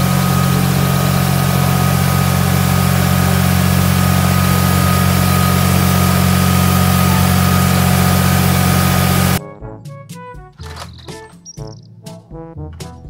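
A toy tractor's engine drones with a loud, steady low idling hum for about nine seconds, then gives way to a burst of chirpy electronic tones and jingles, close and with no talking.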